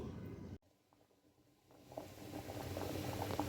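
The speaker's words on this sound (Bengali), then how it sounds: "এই যে দেখুন ডাল ফুটে উঠেছে" Dal lentils with chilli, coriander powder and salt boiling in a pot, a soft bubbling simmer that fades out after a cut and then gradually returns, faint and close.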